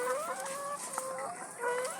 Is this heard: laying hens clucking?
yes